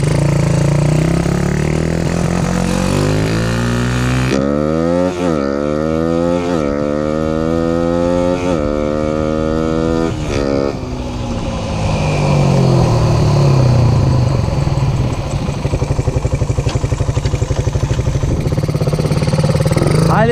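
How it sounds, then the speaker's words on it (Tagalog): A motorcycle engine warming up idles and revs, pitch rising and falling in several surges, then settling into a steady rumble. "Painiti lang muna natin yung makina"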